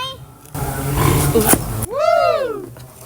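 A stretch of rustling noise, then a single drawn-out, descending roar from a tiger, fairly close.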